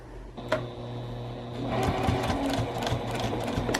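A sewing machine stitches a canvas tote bag, running steadily through several seconds of continuous mechanical whirring after a brief start, close and fairly loud with no talking.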